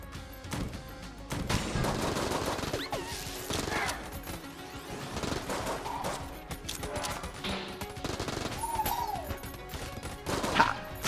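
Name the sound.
gunfire from weapons in the video game Enter the Gungeon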